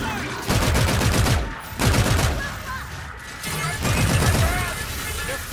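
An aircraft gun run in a shooter game, with three sustained bursts of heavy rapid cannon fire that rise and fall over a loud continuous background, while voices talk underneath.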